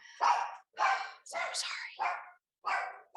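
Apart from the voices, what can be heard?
dog barking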